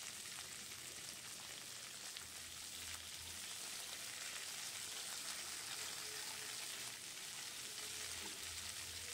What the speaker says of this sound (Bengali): এগুলো আমি ঢাকা দিয়ে ভাজছিলাম যাতে নরম হয়ে যায় তাড়াতাড়ি।